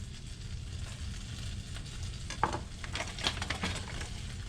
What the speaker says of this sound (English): Now that my oil's heating up, I'll put the white part of the green onions and about 2/3 worth of the toes of garlic in there.